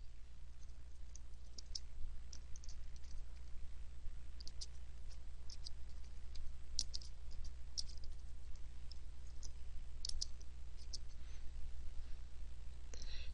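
Computer keyboard being typed on while writing function code, faint irregular clicks of keys in small bursts over a steady low room hum, quiet and close.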